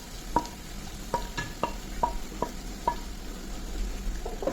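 Chopped ripe banana frying in a spoonful of ghee in a pan, a soft sizzle under a series of sharp spoon clicks and stirring taps at an irregular rhythm, no voices.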